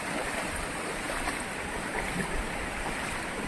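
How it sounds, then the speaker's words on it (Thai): Floodwater overflowing across a road beside flooded rice fields makes a loud, steady, close rushing roar that continues without a break. "โอ้เสียงน้ำล้นถนนตรงนี้ดังซ่าซ่า"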